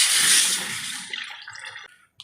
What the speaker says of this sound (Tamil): குழம்புக்கு தேவையான அளவு தண்ணி சேர்த்துக்கலாங்க